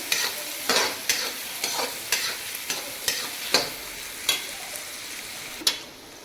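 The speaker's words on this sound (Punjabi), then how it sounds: "ਹੁਣ ਆਪਾਂ ਇਹ ਚੰਗੀ ਤਰ੍ਹਾਂ ਹਿਲਾ ਦਿੰਦੇ ਹਾਂ ਗੈਸ ਨੂੰ ਆਪਾਂ ਮੀਡੀਅਮ ਕਰ ਦਿੰਦੇ ਹਾਂ ਹੁਣ ਆਪਾਂ 5 ਮਿੰਟ ਤੱਕ ਆਪਾਂ ਪਕਾਵਾਂਗੇ ਪਿਆਜ਼ ਆਪਾਂ ਗੋਲਡਨ ਬ੍ਰਾਊਨ ਕਰਾਂਗੇ" Onions and capsicum frying in a pan for red sauce pasta, with a steady close sizzle broken by repeated scraping strokes of stirring, and no voices.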